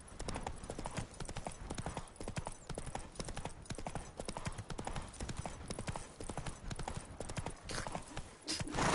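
Hooves of Roach, the horse in Witcher 3, clip-clop in a quick, steady rhythm throughout, close and continuous, with a short whinny-like sound near the end.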